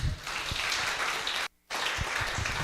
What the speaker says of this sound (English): with a warm round of applause, let us all welcome Miss Jean Margaret Goldborn.